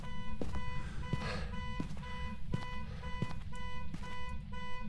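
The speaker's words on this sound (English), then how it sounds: "Car alarm's going off." Car alarm blaring in the video game Phasmophobia, a repeating electronic beeping pattern pulsing steadily over a low rumbling background, no talk.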